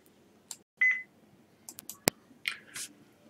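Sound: HMI software alarm beep from computer speakers

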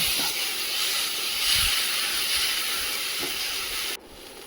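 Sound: frying garlic paste and spices together in a pan

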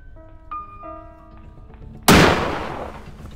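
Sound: gunshot in the video game Granny

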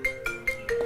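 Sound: phone ringing during a call

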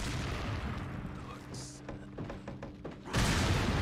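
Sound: grenade explosion in the video game Resident Evil 4 Separate Ways

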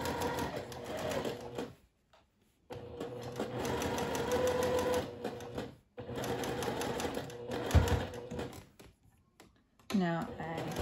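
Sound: sewing machine sewing around a sundress hem

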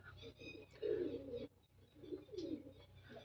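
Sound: pigeon cooing

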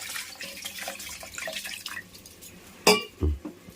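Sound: water poured into mixer jar to rinse masala

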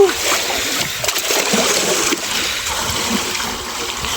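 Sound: water splashing into a makeshift swimming pool

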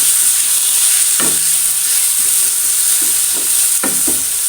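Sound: sliced tomato sautéing in a pan

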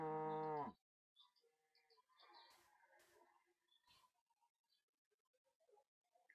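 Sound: cow mooing in Minecraft video game

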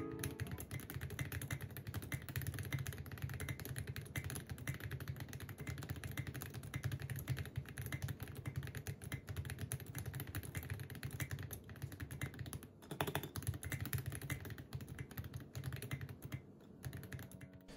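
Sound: mechanical keyboard with case foam and Max Keys SA profile keycaps, typing

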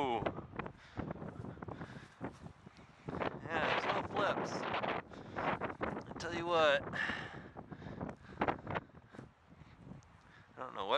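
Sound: wind outdoors during a drone flight

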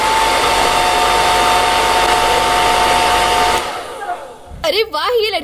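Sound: hair dryer blowing on hair

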